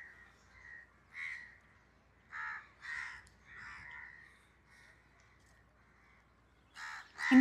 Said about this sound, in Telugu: సిటీలో పావురాల సౌండ్ వచ్చినట్టు ఇక్కడ కాకిగోల